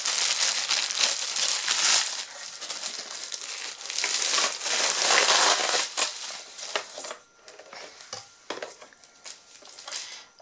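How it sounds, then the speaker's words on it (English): A plastic bag crinkles and rustles almost continuously as a Minc Heidi Swapp foil applicator machine is unwrapped. The sound is close and busy, then thins out into sparser crackles toward the end. "It's wrapped up in a plastic bag. I'll just take it out of that."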